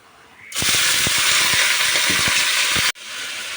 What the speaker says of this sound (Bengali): এখন এর মধ্যে কুচনো আলুটা দিয়ে দেবো